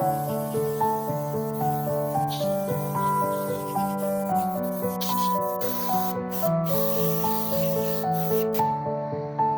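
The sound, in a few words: airbrush spraying white paint through a stencil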